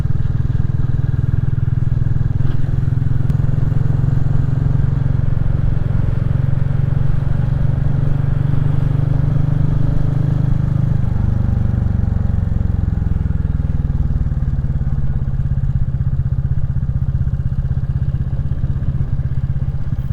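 A Royal Enfield Classic 350 thumps along steadily on the Abergwesyn Loop, its single-cylinder engine droning loud and close with a low, constant rumble and a slight shift in pitch midway.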